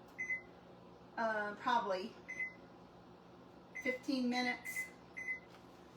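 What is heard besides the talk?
oven timer beeps while setting the timer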